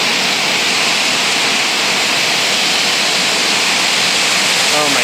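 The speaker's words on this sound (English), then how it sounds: "Waterfall number 2," A waterfall at Viento Fresco in Monteverde, a loud continuous roar of rushing water filling the whole clip with no letup.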